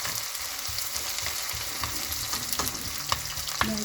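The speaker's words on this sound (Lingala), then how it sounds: "sikoyo tobwaki matungulu na biso tobwaki matungulu" Onions fry in oil with a dense, continuous sizzle and repeated stirring scrapes, close and fairly loud, with a couple of sharper clicks near the end and no talking.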